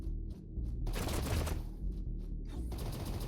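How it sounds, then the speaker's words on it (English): Machine gun fire in the shooter game Project Remedium: several short bursts of rapid rattling shots, with one longer stretch of continuous fire between brief gaps, moderately loud over a low droning game background, with no talking. "did my machine gun get super buffed?"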